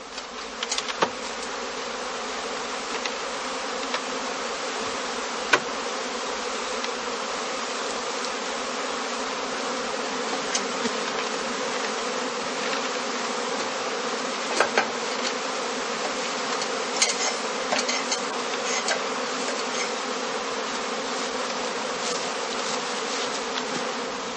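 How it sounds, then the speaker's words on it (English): Honeybee swarms buzz around straw skeps in heathland, a dense steady drone that holds for the whole stretch, with a few faint clicks and bumps. "As more and more swarms are thrown off and collect under the branches and the eaves, the beekeeper assembles the filled catching skeps"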